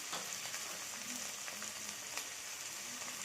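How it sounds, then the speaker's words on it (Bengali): Cauliflower pieces frying in hot oil sizzle loudly and close up. A few sharp pops and spits cut through the steady hiss, and there is no talking. "এই তেলটা গরম হয়ে গেছে, এবার কপিটা এইভাবে দিয়ে দেবো"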